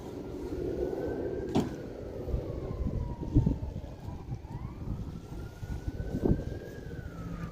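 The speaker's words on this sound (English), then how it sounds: "I just hear some sirens." Emergency vehicle sirens wail along the street after a standoff, faint and distant, with a long rising-and-falling tone drifting in over steady traffic and street noise.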